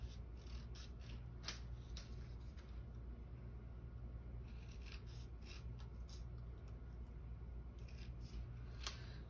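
Scissors snipping through paper scraps for Halloween tags, making a run of short crisp cuts in clusters over a steady low background rumble.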